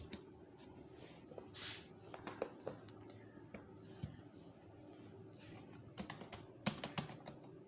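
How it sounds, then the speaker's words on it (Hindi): Quiet, close typing on a computer keyboard as a paragraph is entered, soft uneven key clicks with short pauses and a few louder bursts of taps; no speech. "तो इस पैराग्राफ को हम टाइप कर लेते हैं"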